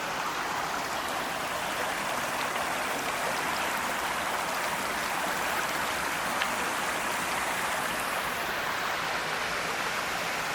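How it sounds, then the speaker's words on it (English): A creek runs through a campsite on the Superior Hiking Trail, with a waterfall close by: a steady, close rush of flowing water, broad and unbroken, with no voices over it. "So here's the creek that runs through the campsite. And then over in here, we have a waterfall."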